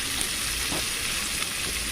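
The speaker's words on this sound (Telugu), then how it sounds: "పచ్చిమిర్చి, ఆనియన్స్ ఒకేసారి వేస్తున్నానండి" Green chillies and chopped onions added together to a hot pan for an amaranth-and-peanut-powder curry, giving a steady, soft, even sizzle with no talking.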